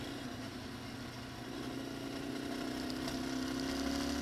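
A small Yamaha XT250 dual-sport motorcycle engine drones steadily, its pitch rising slightly as it rides along a gravel road with continuous rumbling road noise.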